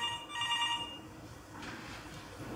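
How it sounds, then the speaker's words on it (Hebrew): An office telephone rings, a bright repeating electronic trill in the first second, then fading under faint room noise. "הטלפון במשרד מצלצל."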